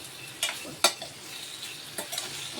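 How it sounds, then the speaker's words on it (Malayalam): A brinjal and egg curry is stirred in a pan, giving a few separate scraping strokes over a quiet background sizzle, close and fairly soft. "എല്ലാം കൂടി നമുക്കൊന്ന് ഇളക്കി"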